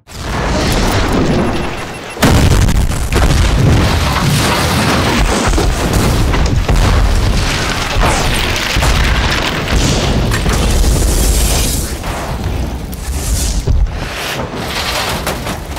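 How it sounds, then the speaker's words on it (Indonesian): Bombs exploding in a film scene, a loud, continuous roar of blasts and rumbling booms with a sharp cut near the start and no pauses. "dia meledakkan semua bom yang telah dipasang"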